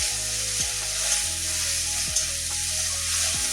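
Ginger garlic paste frying in a pan for a Bengali pabda fish curry with eggplant, a steady close sizzle with a few scraping stirs at regular intervals and no talking.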